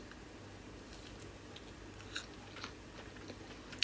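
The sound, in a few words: biting and chewing keto pizza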